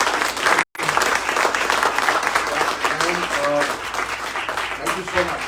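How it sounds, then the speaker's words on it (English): Audience at a Mumbai launch event applauding, a steady crowd of clapping with a brief dropout near the start, while voices speak over it partway through. "can we have a big round of applause for Nancy?"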